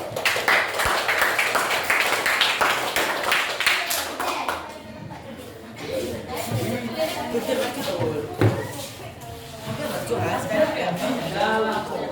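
Classroom of students applauds a group presentation, a burst of scattered clapping for a few seconds that fades into chatter and a teacher's voice talking over the room.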